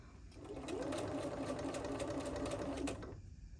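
A sewing machine stitching a pillow, running in one steady whirring burst of rapid needle strokes for about three seconds, close and clear, then stopping.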